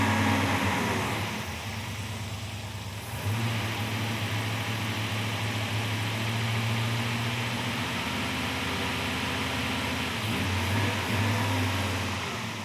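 A Gasser Chevy engine runs loud and steady at close range, its rumble rising into revs and falling back as the carburetor squirter is pumped repeatedly, with no talk over it.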